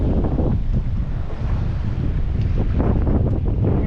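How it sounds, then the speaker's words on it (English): Strong wind blows at sea over a small fishing boat, a loud continuous roar with heavy buffeting against the microphone and no voices. "Well, not really the waves. It's just windy."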